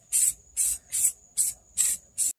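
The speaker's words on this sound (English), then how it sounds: "with any spray paint job, always want to start with a nice light coat." Six short hissing bursts of spray paint in a steady rhythm, close and fairly loud, with brief pauses between each pass, laying a light coat on a scratched wheel rim.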